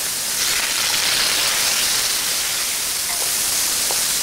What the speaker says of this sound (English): We're going to cook the shrimp for 1 minute until the color of the shrimp turns pink.